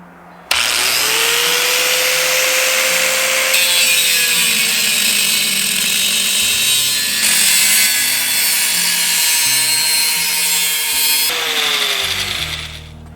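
Angle grinder cuts a hole into a steel beer keg for a DIY barbecue, with a loud, continuous high-pitched screech and whine that shifts pitch as the disc bites, close and unbroken.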